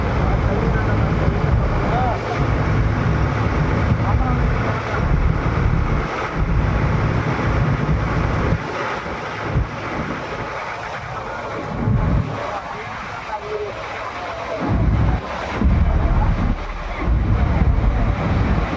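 A motor boat moves across floodwater covering a submerged village, its engine drone mixed with heavy wind buffeting and water wash, loud and close, with brief dips as the motor eases.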